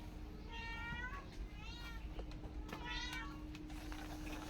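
A cat meows three times at an even pace while eating, faint and a little distant, over a steady background hum.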